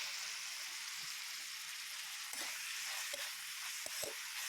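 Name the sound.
carrots and beans sautéing in a pan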